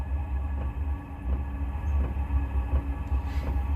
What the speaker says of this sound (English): That's the pump pumping the fuel, the diesel.